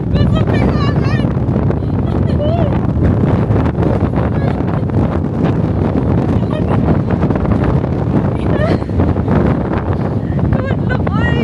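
Strong wind at the Fjellstua mountain viewpoint above Ålesund, Norway, roars constantly and loudly against the microphone, a dense rumbling buffet from start to finish, with voices faintly audible beneath it.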